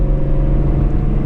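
A Shelby GT350 Mustang's Voodoo V8 rumbles deep and loud, close up and alone, holding a throaty, buzzing drone for a moment as the car downshifts.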